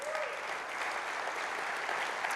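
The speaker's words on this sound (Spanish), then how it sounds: "Alguien déle un aplauso al Señor." Steady applause from a church congregation during a sermon, a dense sustained clatter of many hands clapping at even loudness throughout, with no voices standing out.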